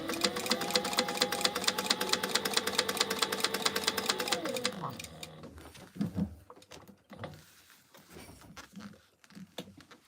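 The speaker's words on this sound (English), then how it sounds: "I top stitch the other side with a small stitch" A sewing machine runs a fast, steady top stitch with a small stitch length through webbing and tulip-print vinyl for a cargo belt bag, then stops abruptly midway, followed by scattered handling clatter and faint movement.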